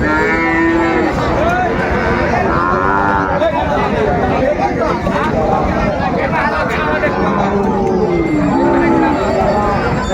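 Cattle, including Sahiwal-breed bulls, mooing repeatedly at a busy livestock market, loud and close, with long drawn-out calls over constant crowd chatter and people talking nearby.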